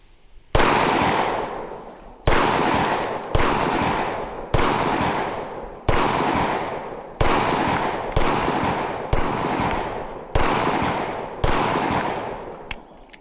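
Close pistol shots from a Canik MC9 Prime or TTI Combat are fired in a steady rapid string, about ten sharp loud cracks evenly spaced, each with a short ringing decay.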